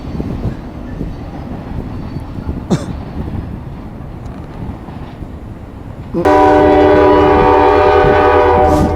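A train rolls past with a low rumble, then a loud, sustained horn blares in and holds to the end.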